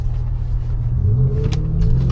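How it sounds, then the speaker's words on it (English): An Audi RS4 with wide arches idles at a petrol station, giving a steady, deep engine rumble that stays loud and close for the whole moment, with no talk over it. "admire the sound of the RS4"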